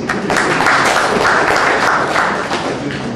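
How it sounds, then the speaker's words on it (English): An audience applauds at a tech workshop, a dense, steady wash of clapping filling the whole stretch at close range, loud and continuous without a break. "Can we clap for loud, please?"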